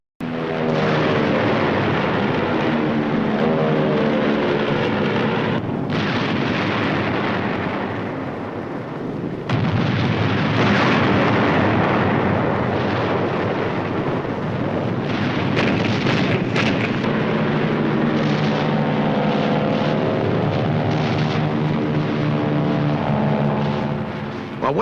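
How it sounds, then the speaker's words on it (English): Heavy naval gunfire booms over the steady drone of an amphibious tractor's motor during a WWII Pacific beach assault, a loud continuous racket with repeated blasts throughout. "When the big guns start talking, I can't even hear my own motor. What a racket."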